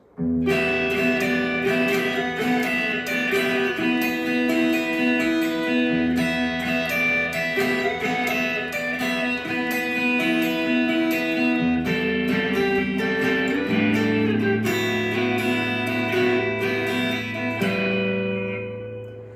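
Electric guitar plays a riff, a dense, continuous run of ringing notes with a shift lower near the end before the sound cuts off, close and alone.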